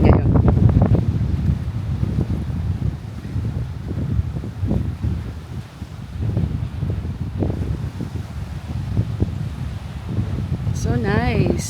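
Morning wind blows across a beach at Amanpulo, rushing and buffeting the microphone in uneven gusts over faint surf, with people talking intermittently throughout.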